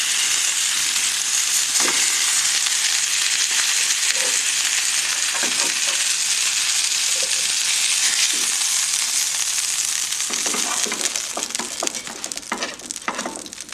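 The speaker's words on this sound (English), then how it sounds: "we're going to transfer our beef into this pot, and we're going to start" Beef frying in a pot for osso buco on the bone, a loud dense sizzle with scraping stirs and crackles that gradually eases toward the end.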